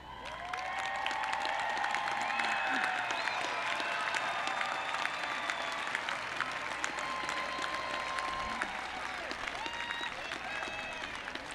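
A large commencement crowd at a CSUN 2017 graduation ceremony applauds graduates with academic honors, producing dense, steady clapping mixed with some cheering that holds strong for the whole stretch and tapers only slightly near the end.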